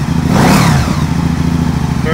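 A Can-Am Spyder three-wheeler engine idles steadily on a cold day at about 30 degrees, a constant low rumble running throughout, close by, with a brief rev-like swell early on.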